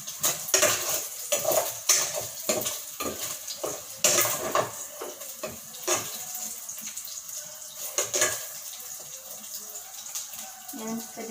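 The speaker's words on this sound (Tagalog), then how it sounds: "Naghalo ko na po yung bawang sa karne. Then, haluin lang hanggang maging medyo golden na rin yung karne." Beef and garlic being stirred in a pan for adobong karne, with a utensil scraping and clanking against the metal in irregular strokes, close up, over a light background sizzle.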